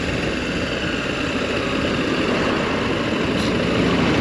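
A KTM 790 Adventure motorcycle engine sounds as it overtakes another rider, a continuous broadband roar mixed with heavy wind noise, loud and steady, rising slightly toward the end.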